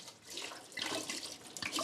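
Alcohol is poured out into a sink in a home, a soft steady splash and trickle of liquid with a few brighter spattering bursts, fairly quiet and close.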